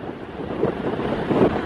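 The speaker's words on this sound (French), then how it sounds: "il y a bien du vent" Wind blows at a kitesurfing spot by the sea, a loud steady rushing roar buffeting the microphone with low gusts and faint surf beneath.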